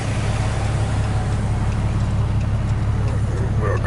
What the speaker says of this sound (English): So maybe we can hear some of that Cummins rumble.